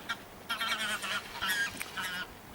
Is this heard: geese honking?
yes